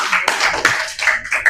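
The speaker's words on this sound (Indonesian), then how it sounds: "tepuk tangan buat temannya." A junior high art class claps hands for a classmate, a short burst of close, loud, uneven claps with a few sharper peaks.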